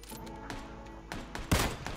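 Gunfire in the battle royale game PUBG, several sharp shots in quick succession, with a louder burst near the end over a low background hum.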